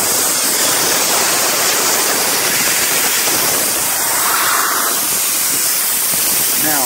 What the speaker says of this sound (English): Start draining your first hose.